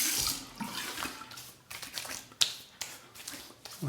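Tap water runs into a sink while rinsing off after a shave, with splashing as hands move through the stream, a few sharp clicks and drips, near and moderately quiet, no voices.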